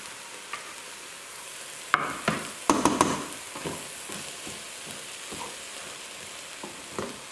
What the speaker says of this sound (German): So, jetzt packen wir den Knoblauch dazu.